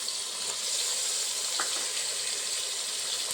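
Mixed vegetables with carrot frying for vegetable pulao, a steady close hiss of sizzling oil running throughout with no talking and one brief scrape of stirring.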